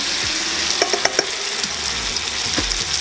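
Boneless, unbreaded pork chops sizzle steadily in a hot frying pan, with a few clinks and scrapes as a chop is carefully turned over partway through.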